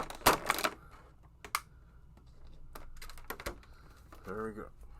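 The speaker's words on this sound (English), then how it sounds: "cut away at those zip ties now" Zip ties are snipped off the packaging of a McFarlane Toys Harley Quinn figure, giving sharp, scattered clicks and snaps close up, with a brief voice near the end.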